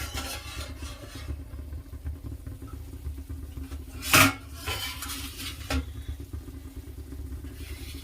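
A cooking pot on a gas stove holding pora pitha has its lid lifted, one sharp metallic clank standing out over a low steady background hum.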